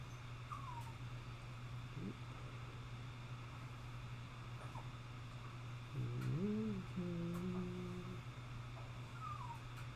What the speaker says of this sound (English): I don't even know where the dog is. Oh, silly. He's under my feet. He's whining under my feet.